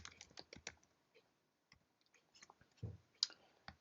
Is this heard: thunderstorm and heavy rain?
no